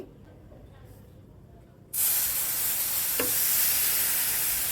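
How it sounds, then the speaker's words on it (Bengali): Liquid milk poured into semolina that has been fried in a pan sets off a sudden loud, steady sizzle and hiss. A quieter background comes before it, and the sizzling carries on to the end. "এবার ভেজে নেওয়া সুজির মধ্যে আমি লিকুইড দুধ দিয়ে দিচ্ছি।"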